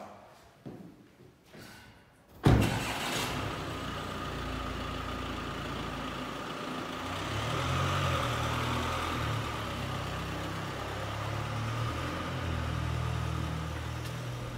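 After a few quiet knocks, an Audi A4 Avant 2.0 TDI 150 hp diesel with S tronic starts with a sharp burst, then idles steadily close by with a low, even hum.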